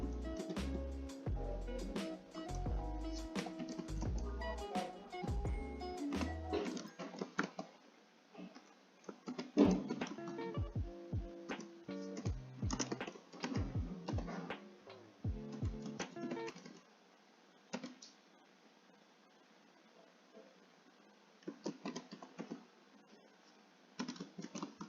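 Manual typing on a computer keyboard while entering an HTML link tag, heard as irregular bursts of close, crisp key clicks with brief pauses, louder at the start and sparser toward the end.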